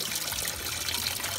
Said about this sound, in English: It was a gush of coolant right away, and then now it's down to a kind of a trickle